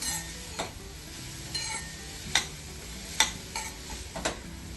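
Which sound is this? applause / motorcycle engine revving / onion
onion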